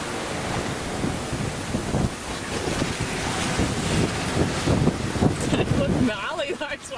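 Strong wind roars steadily across the microphone while open-ocean waves surge and break around a sailing boat making about four knots off Cape York, at the northern tip of Australia. The sound is loud and continuous throughout.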